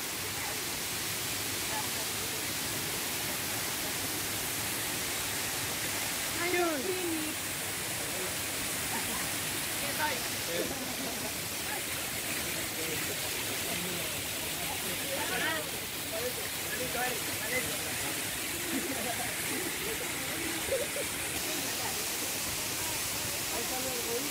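A powerful waterfall, the fourth of seven cascades, roars as a steady broadband rush of falling water, constant and enveloping, with faint voices of people talking partly buried beneath it.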